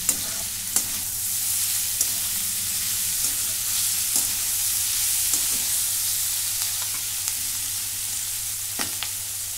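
Bitter gourd slices stirred and sautéed in a pan, a steady soft sizzle of frying with sharp, irregular clicks of the spatula against the pan, close and alone without talk.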